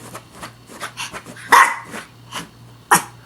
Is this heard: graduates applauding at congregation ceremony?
no